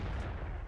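A single heavy, booming T110E5 tank gun shot in World of Tanks with a deep low rumble, loud and brief, with no voices.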